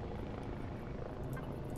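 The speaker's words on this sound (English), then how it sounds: "Hello, drone." Drone flying in the video game Empyrion Galactic Survival: a low, steady rotor-like hum, faint and continuous, with no voices over it.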